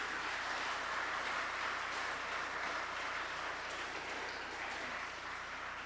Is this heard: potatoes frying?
no